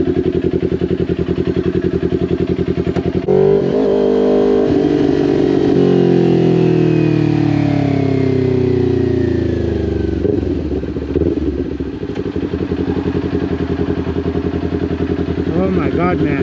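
A Kawasaki Ninja 400 KRT sport bike is ridden, its engine droning loudly and steadily throughout, with a rising rev sweep partway through as the rider accelerates.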